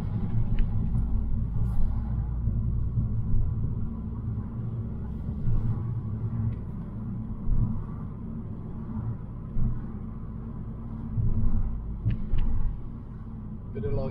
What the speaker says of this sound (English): Always loads of traffic on this road.